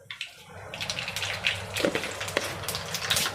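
Mustard seeds dropped into hot oil for palak paneer, a busy close-up sizzle with scattered sharp pops and crackles that build and continue over a few seconds.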